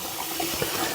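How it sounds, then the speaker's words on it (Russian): Rice being rinsed under a running tap, a steady close wash of flowing water with soft splashing, no talk. "Промываем рис до тех пор, пока с него не потечет прозрачная вода."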